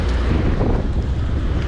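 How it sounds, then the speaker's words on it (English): Strong winter wind roars steadily against the microphone while cycling outdoors, a loud, continuous low-frequency buffeting with no voices. "It's the wind that, you know, it's better to stop if it's really, really windy."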